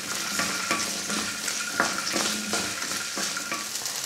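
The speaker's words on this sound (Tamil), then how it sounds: "இது எல்லாத்தையும் நல்லா வதக்கி விட்டுருங்க" Continuous oily sizzling and crackling of chillies, garlic and onions sautéing in a hot pan for chicken varuval, with occasional scrapes of a stirring spoon.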